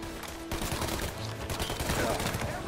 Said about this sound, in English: some dude's shooting at me.